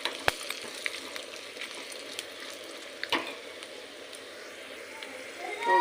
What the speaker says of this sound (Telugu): మిర్చి, వెల్లిపాయలు, కరివేపాకు వేగేంత వరకు